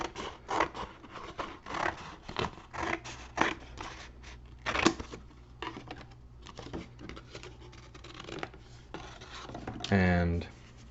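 Scissors snip out long rectangles for a paper labyrinth, giving a close, irregular run of crisp cuts and paper rustles, ending with a brief louder crinkle.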